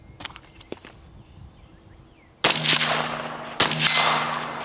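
Two sharp rifle shots crack out at targets about 100 yards away, each followed by a long rolling echo, after a few faint clicks and handling noises in a quiet outdoor setting.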